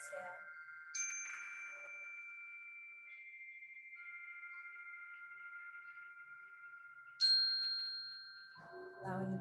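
A soft meditation bell rings for a breathwork exercise, one clear tone struck early and left to ring out, then a second strike a few seconds later that hums on, quiet and alone.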